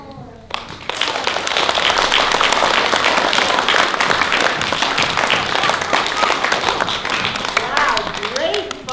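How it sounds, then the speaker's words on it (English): An audience claps along at the end of a told story, dense steady clapping for several seconds, loud and close, with some voices mixed in. "We clap our hands together."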